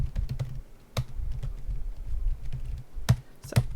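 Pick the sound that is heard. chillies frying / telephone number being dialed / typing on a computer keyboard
typing on a computer keyboard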